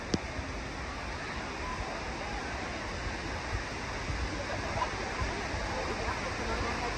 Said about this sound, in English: We can hear water over here, but we can't really see nothing.